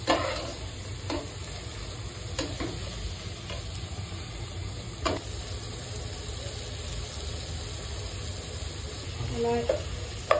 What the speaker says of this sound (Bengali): নেড়ে একটু ভাজা ভাজা করলাম আদা রসুন দিয়ে